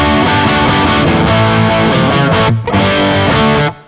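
Electric guitar fitted with Kinman P90-Bucker zero-hum noiseless pickups, played loud through heavy distortion with a dense, sustained chordal tone that cuts off near the end.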